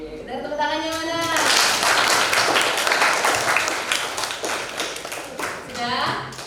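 Students in a classroom break into applause, a dense burst of clapping that swells for several seconds and then tapers off, with a teacher's voice heard speaking before and after.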